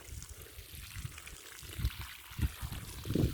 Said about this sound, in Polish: woda leci